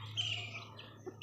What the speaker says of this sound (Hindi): दोस्तों, एक घरेलू पक्षी है।